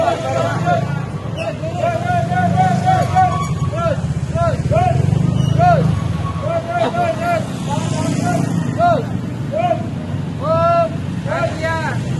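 Motorcycle engines rumble and drone steadily through a crowded street, loud and close, while many voices chatter and call out over the traffic noise.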